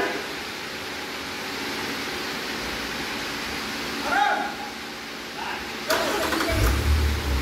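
A Nissan Patrol's engine cranks and catches after a remote start, heard from nearby over steady background hiss, followed by a low, steady idle rumble.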